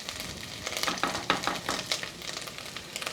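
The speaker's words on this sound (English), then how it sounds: "want to fry this tomato paste out until it almost changes color to brown" Tomato paste frying in a pot for Bahamian peas and rice, a close, steady sizzle with crackling pops and scraping stir strokes, no voices.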